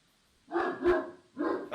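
A dog barks twice, close and fairly loud, two short rough barks separated by a brief pause, with silence before them.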